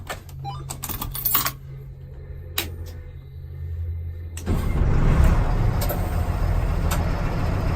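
A 1998 Stewart & Stevenson LMTV military truck starting up: a few clicks and brief cranking bursts, then the diesel engine catches at about four seconds and settles into a loud rumbling idle.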